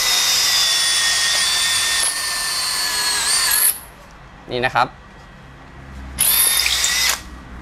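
A Makita 40V cordless drill set to gear 2 in drilling mode runs in a loud, steady whine for several seconds, stops, then fires again in a shorter burst, with a brief spoken remark in the gap.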